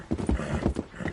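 Horse hooves clip-clopping at a steady gallop in Red Dead Redemption 2, loud and close, with a faint whinny mixed in and no talking.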